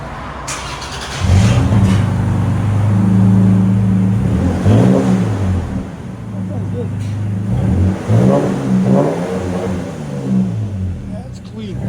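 A 2024 Toyota Tacoma 3.5L V6 with a Flowmaster Super 10 muffler idles with a deep, throaty burble, then revs up and down in repeated close, loud pulls.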